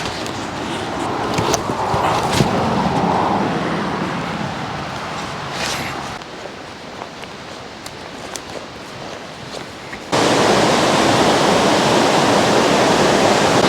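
Steady broadband roar of a high-altitude alpine river rushing with heavy water, loud and continuous throughout, shifting to a closer, denser wash in the final few seconds.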